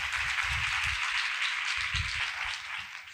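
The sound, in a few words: congregation applauding for God's glory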